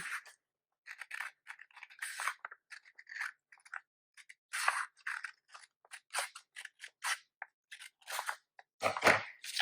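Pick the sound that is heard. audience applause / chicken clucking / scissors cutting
scissors cutting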